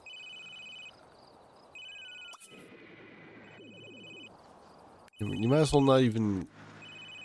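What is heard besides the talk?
phone ringing in The Sims 3 video game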